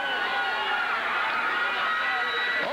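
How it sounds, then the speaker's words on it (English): A wrestling crowd at the Gardens roars in support during a USWA cage match, a dense sustained wall of cheering and shouting that stays loud and unbroken throughout, with a few high whistles cutting through. "USWA crowd here at the Gardens giving some support to Tex Schlesinger"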